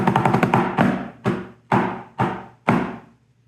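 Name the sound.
snare drum flam taps after 9-stroke roll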